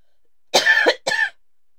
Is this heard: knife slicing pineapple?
no